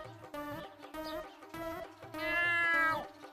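A cat meows repeatedly in a series of drawn-out, tonal calls, loud and close, with the last cry longer and more strained, rising and falling like a caterwaul.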